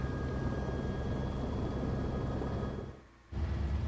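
Helicopter in the video game Resident Evil 3 Remake, a steady broadband rotor and engine drone with a faint tonal whine, holding loud and constant before briefly dropping away near the end and returning.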